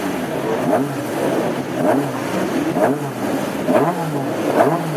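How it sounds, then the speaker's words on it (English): Classic hot rod race car engines at a Birmingham oval revving together before a clutch start to the Second City Stakes final, with repeated rising and falling rev surges that form a loud, continuous, rhythmic roar. "Engines revving."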